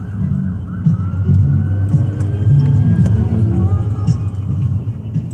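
Emergency vehicles pass in the opposite direction on a city road in Atlanta at night. A rising siren tone and a steady traffic rumble come through a moving car, loud and continuous with no talking.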